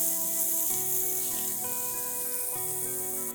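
Garlic and seeds frying in coconut oil for an ash gourd and spinach curry give a steady close-up sizzle with faint crackles throughout, and no voices.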